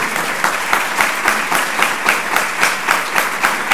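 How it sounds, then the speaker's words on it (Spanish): Audience at an international tuberculosis conference session bursts into close, loud, continuous clapping with a lively pulsing texture throughout. "Un aplauso"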